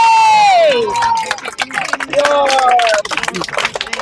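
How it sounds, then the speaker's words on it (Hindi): Guests at a birthday celebration clap and cheer, a crowded burst of hand claps and shouts running under a loud, sustained voice, with excited calls rising and falling throughout. "जोरदार तालियां"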